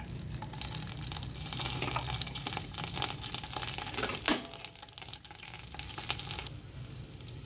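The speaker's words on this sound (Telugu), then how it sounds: "ఈరోజు శుక్రవారం నీసు తిన్నాల కోసం దొండకాయ ఫ్రై చేస్తున్నాను" Ivy gourd (dondakaya) fries in a pan with curry leaves, giving a steady, close sizzle and crackle, with one brief louder burst of spitting partway through and no talking.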